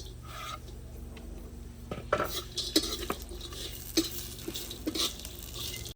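Coconut dry-roasting in a pan for Maharashtrian maswadi, a low sizzle under repeated stirring scrapes and sharp metal clinks of a spoon against the pan, close and fairly quiet.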